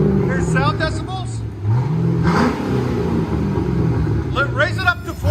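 A Chevy Corvette's 6.0L LS V8 fitted with a Carven R-Series exhaust rumbles and revs up close, its engine note rising and falling continuously while someone talks over it.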